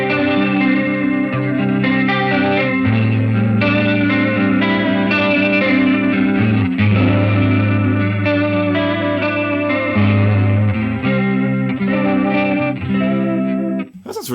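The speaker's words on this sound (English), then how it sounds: "That's like an old record, kind of distorting, kind of warbly old record." An electric guitar runs through a Line 6 HX effects unit set to a warbly, distorted old-record tone, with loud, continuous chords that wobble in pitch over about fourteen seconds and no talking.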